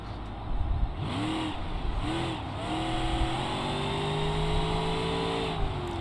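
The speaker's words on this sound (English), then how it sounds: "So as we're accelerating, the engine is creating rotational forces" A car engine in BeamNG.drive revs and accelerates steadily, its pitch rising and holding over a constant rumble, loud and close with no talk.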